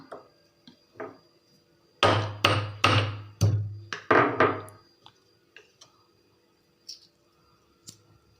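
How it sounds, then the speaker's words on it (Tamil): Seeds pounded with a stone to crack their shells: a run of about seven sharp, close knocks in quick succession, with a few softer taps before and after. "ஒரு இடிக்கல்லையோ இதுலையோ ஒன்றில் போட்டு இதை நல்லா தட்டிட்டீங்க அப்படின்னா பாருங்கள் உடஞ்சிருச்சு"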